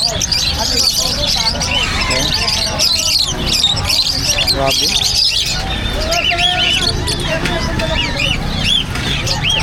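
Many caged birds chirping and squawking together at a busy outdoor pet market, a dense continuous chatter of calls with people talking nearby throughout.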